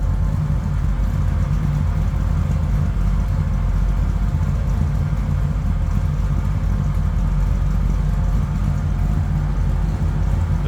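A 1981 GMC C1500 street rod pickup's engine runs at a steady, deep rumbling idle, loud and close throughout with no revving or talking.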